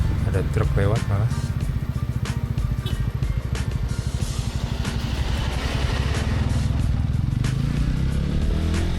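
A truck passes on a road near Amed, Bali, its engine a loud, throbbing rumble that builds and fades, heard from a pickup with a rider's voice speaking over the engine noise.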